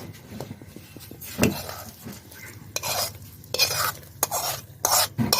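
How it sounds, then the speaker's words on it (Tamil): Bombay halwa being stirred in a pan at home, a thick mixture churned with a spoon producing bursts of scraping and clinking against the metal, irregular and close, alternating with short quieter gaps and a faint sizzle, no talking. "சேர்த்து நல்லா ஒரு கிண்டி விடுங்க."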